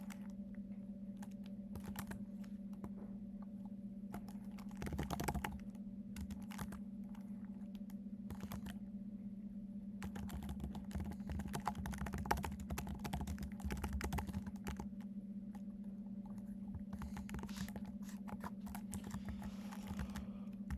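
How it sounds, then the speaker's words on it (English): Someone types on a computer keyboard during a coding session, quiet bursts of clicking keys separated by pauses over a low steady electrical hum. "Oh, I need to get better at typing."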